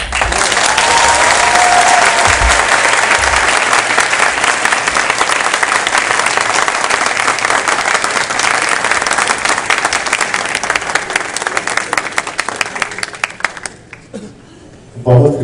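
A concert crowd claps and cheers in sustained, dense applause for about fourteen seconds before it quickly tapers off into near quiet.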